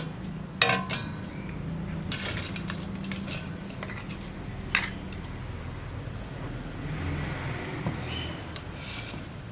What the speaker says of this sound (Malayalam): ഇത് നമുക്കൊരു പ്ലേറ്റിലേക്ക് മാറ്റാം